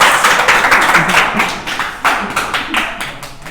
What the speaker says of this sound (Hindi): तालियां एक बार इनके लिए तालियां हो जाए